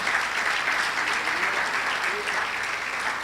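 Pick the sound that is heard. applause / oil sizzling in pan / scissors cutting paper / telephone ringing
applause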